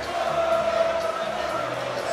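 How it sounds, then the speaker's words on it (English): A crowd keeps up a steady roar of cheering and shouting at a heavyweight bare-knuckle boxing title fight, a dense continuous wash of voices filling the venue. "the crowd's still going wild in here tonight"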